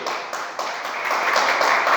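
A church congregation breaks into applause, a steady wash of many hands clapping that grows slightly fuller and louder over a couple of seconds.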